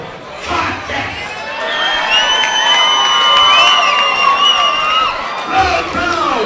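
A large crowd at a fight introduction cheers and whoops loudly, building into a sustained roar and then tapering off, while an announcer's voice is also heard.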